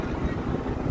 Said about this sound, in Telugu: సో ఇప్పుడైతే బైక్ మీద ఉన్నాం మేము.